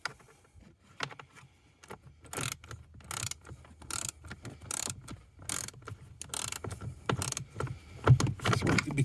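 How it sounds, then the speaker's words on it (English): An 8 millimeter ratcheting wrench works under a Ford F150 dash, its ratchet pawl clicking in quick bursts alongside metallic handling noises, growing louder and denser toward the end, close and with no talk. "I got an 8 millimeter ratcheting wrench."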